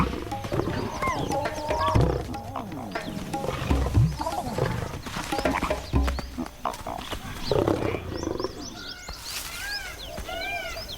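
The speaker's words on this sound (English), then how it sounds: "This lioness operates alone. They greet her with play fighting." Asiatic lions play fighting in the Indian desert give repeated growls, snarls and roaring bursts at close range, with bird calls chirping in the background toward the end.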